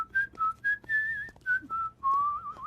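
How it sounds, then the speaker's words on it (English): A man whistles a short, halting tune of several clear notes, some brief and some held, close and fairly quiet with no talking. "I'm concentrating on whistling."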